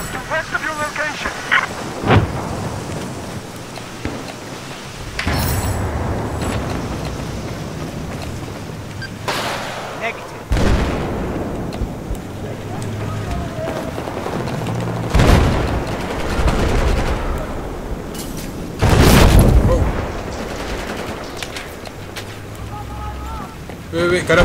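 Battlefield 4 gunfire on the Siege of Shanghai map cracks out in loud, sharp bursts and heavy booms across a rainy battlefield, repeating every few seconds with players talking in between.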